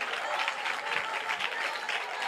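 A congregation claps during a Malayalam Christian sermon, the dense, steady clapping filling the whole stretch at an even, fairly loud level with no clear speech on top.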